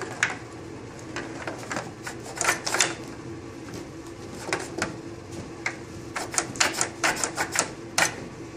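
Spinner on a homemade pinball table fitted with washers, clicking and rattling in short irregular bursts, close and fairly loud against a light background hiss.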